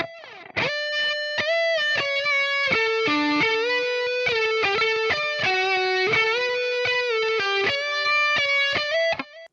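A distorted electric guitar plays a riff at full speed, with quick, sharply picked notes and slides ringing out in a continuous run with no voices.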